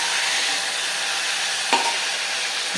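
Onion and tomato sauté in a pan for a brinjal dish, giving a constant close sizzling hiss with one brief clink of a stirring utensil near the end; nobody talks.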